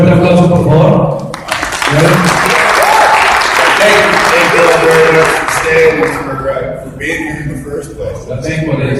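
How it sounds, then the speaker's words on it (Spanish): An audience at a safety training course welcomes the author and speaker with strong applause, loud clapping with chuckles and overlapping voices, thinning out toward the end. "quiero que lo reciban con un fuerte aplauso, por favor"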